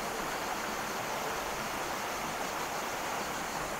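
A waterfall pours in a constant broad rushing roar, loud and unbroken from start to finish, with no voices.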